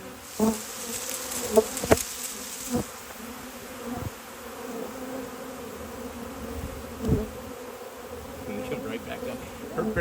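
A dense swarm of bees buzzes steadily, a constant hum with a few louder thumps and bumps near the microphone.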